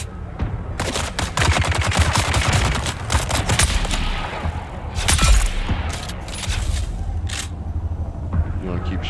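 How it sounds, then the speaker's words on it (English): Enemy gunfire in Dune: Awakening rattles in dense, loud bursts of rapid shots aimed at the player at a camp, with a heavy impact midway and game sounds around it, while a player talks over the shooting. "You want to keep shooting at me, heavy guy?"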